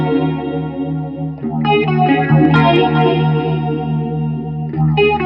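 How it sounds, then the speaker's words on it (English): An electric guitar through an EVH 5150III amp, run through phaser, chorus and two delays, rings out in sustained chords and picked notes with a swirling Leslie-like shimmer and echoing ambient tails, loud and close. "I'm going to roll on the phaser with the conjunction of the chorus and the 2 delays, and give a really nice Leslie effect and nice ambiance"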